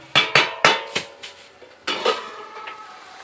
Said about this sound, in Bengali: এখন আমি ঢাকাটাকে একটু খুলবো।